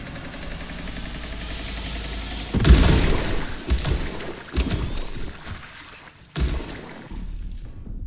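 Shock grenade going off in The Last Caretaker: a sudden loud crackling burst over a steady mechanical hum, followed by several further sharp crackles and thumps that gradually thin out.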